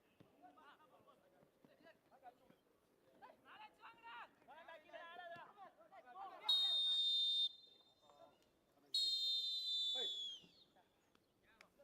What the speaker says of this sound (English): that's the halftime whistle here at the Dempo Academy ground in Korlem, Goa